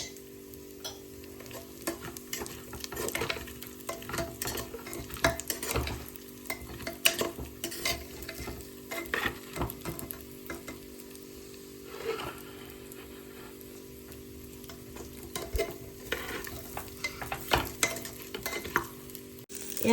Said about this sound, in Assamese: এয়া মই এতিয়া পোলাওখিনি 2 চামুচ ঘিউ দি দিলোঁ।